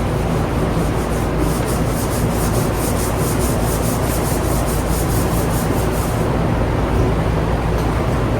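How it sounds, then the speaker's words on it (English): Steady, continuous abrasive sanding of gel coat on Road Glide motorcycle fiberglass parts, loud and close, with a constant fan noise underneath. "this gel coat on these fiberglass parts has to be sanded for the paint to stick to it"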